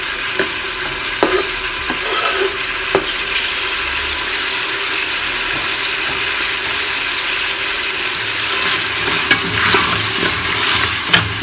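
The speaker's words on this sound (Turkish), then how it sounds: "Etimi kavurdum. Soğanımı atıyorum." Onions frying with sautéed meat for a chickpea dish make a loud, steady sizzle, punctuated by clicking spoon scrapes against the pot.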